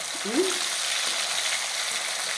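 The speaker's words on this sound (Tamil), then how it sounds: "உருளைக்கிழங்கு எண்ணெயில் போட்டு வறுத்து" Potato pieces frying in hot oil for a poriyal, giving a dense, even crackling sizzle that fills the whole moment, close and steady, without talk.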